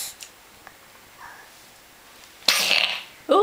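A small child at a macaroni dinner gives a sudden sharp sneeze, loud and close, after a quiet stretch, followed by another brief noisy burst.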